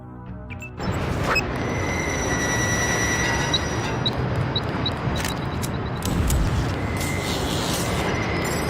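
A subway train ride to Hell's Kitchen in Deus Ex: after a clunk the train starts up, and a continuous loud rumble of rolling wheels follows, with faint squeals and a jolt partway through.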